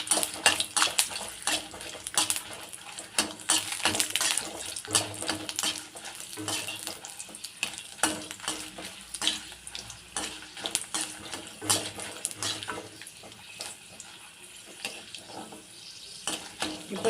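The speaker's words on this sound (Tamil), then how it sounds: "அதுலேயே பூண்டும் நம்ம சேர்த்துக்கலாம். காஞ்ச மிளகாயும் சேர்த்துக்கலாம். இது எல்லாமே நல்லா வறுபடட்டும்." Garlic, dried red chillies and curry leaves dry-roast in a pan for an Andhra-style curry leaf podi, with steady scraping and clinking stirs over a faint sizzle throughout and no voices.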